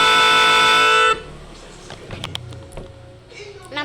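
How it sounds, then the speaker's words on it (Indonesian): A JR6000 train horn blares in one loud sustained harmonic blast that cuts off abruptly after about a second, followed by quiet ambient noise and small clicks. "Suara klakson JR6000."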